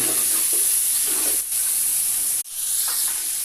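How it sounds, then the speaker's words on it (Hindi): Chicken frying in masala for pulao sizzles and hisses steadily in a hot pan, with soft scraping stirs breaking through the loud, continuous crackle. "तो दोस्तों, हमने इसमें चिकन डाल दिया है और इसे अच्छे तरीके के साथ हिलाते रहेंगे।"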